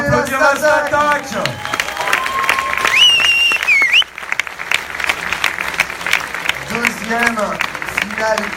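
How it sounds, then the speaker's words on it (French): A crowd applauds and cheers the winning team at a 3v3 tournament final, clapping and whoops rising over voices and music, then thinning into scattered claps while people talk. "On peut applaudir la Statak."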